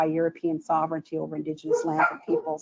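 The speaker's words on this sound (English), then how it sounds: "I apologize for my dogs or someone at the door." Dogs bark repeatedly in a home during a video call, a steady run of close, loud barks and yips heard together with someone speaking the whole time.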